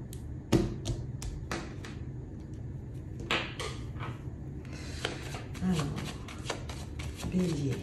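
A deck of 32 playing cards being shuffled during a tarot-style card reading: brisk riffling and flicking bursts with soft taps in between, heard beneath someone speaking French.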